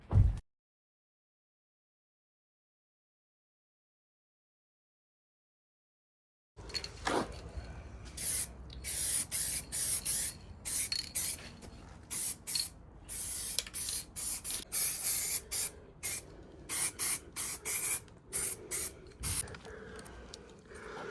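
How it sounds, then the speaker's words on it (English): Spray can laying primer onto rust repair on a Ford Ranger, short hissing bursts in an irregular rhythm after a silent stretch, close and fairly loud. "So this is my second coat of primer."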